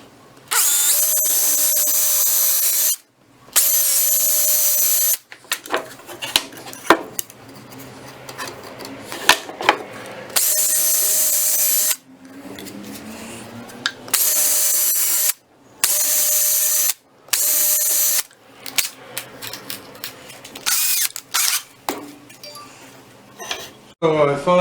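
Bursts of a power driver fastening screws on a Makita MLT100 table saw fence, repeated short whirring runs separated by pauses and light metallic clinks of parts and tools nearby.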